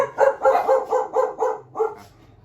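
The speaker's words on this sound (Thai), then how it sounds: "เมื่อกี้หมาเห่า" A dog barks in a quick series of six or seven close, loud barks in rapid rhythm, the last one trailing off into quiet.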